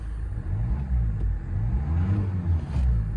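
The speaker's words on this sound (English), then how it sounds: "I will give her a very quick rev." A 2.2-litre CRDI diesel in a 2010 Kia Sorento, automatic 4x4, is given a quick rev: a steady low rumble swells and falls back over a few seconds, close and fairly loud, with no talking.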